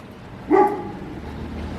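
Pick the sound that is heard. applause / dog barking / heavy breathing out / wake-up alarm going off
dog barking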